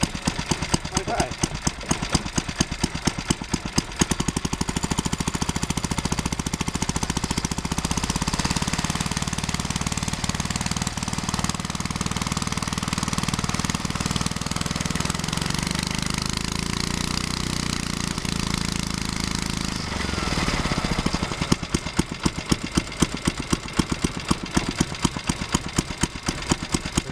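A petrol engine drives the generator aboard a 5-inch gauge petrol-electric model locomotive, running steadily and loudly at close range for the whole stretch, with a slight rise in rough, uneven beats near the end.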